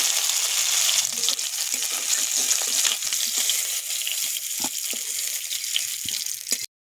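Tilapia fish pieces fry in hot oil with a steady, dense sizzle, broken by occasional clinks and scrapes of a utensil.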